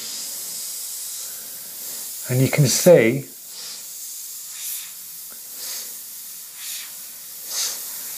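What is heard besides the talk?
airbrush spraying paint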